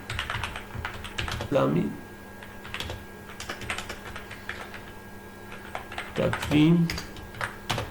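Computer keyboard typing while writing Python code for a calendar program, with soft, close key clicks in short runs under a man's steady explanatory speech.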